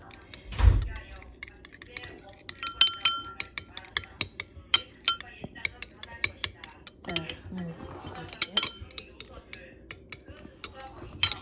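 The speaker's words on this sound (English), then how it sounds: "So I'm just whisking it now." An egg is whisked by hand in a bowl, producing rapid clicking and clinking taps in uneven bursts, with some voices in the background.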